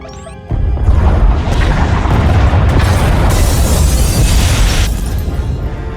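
Pod bays blown apart in Star Wars: The Old Republic: a sudden loud explosive boom, then a sustained roaring rumble of blasts and crashing debris that lasts several seconds before easing slightly.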